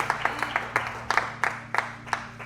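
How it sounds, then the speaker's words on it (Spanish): Scattered clapping from a church congregation rises during a sermon, a handful of distinct claps in uneven rhythm over a steady low hum, fairly quiet and close. "Un aplauso al Señor."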